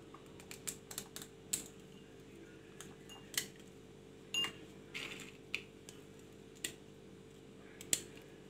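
A knife chops almonds on a board in sharp, irregular taps spaced about half a second to a second apart, close and crisp over a quiet steady hum.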